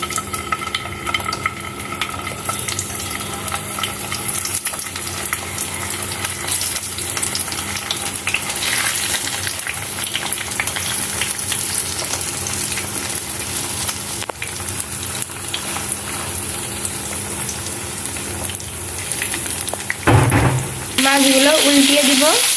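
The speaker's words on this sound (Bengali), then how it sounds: "আমি বেরেস্তা ভাজা তেল দিয়েই মাছগুলো ভেজে নিব।" Shrimp fry in oil left over from browning onions, making a steady, fairly loud sizzle that crackles on and on, ending in a sudden louder hiss and spatter with a brief voice.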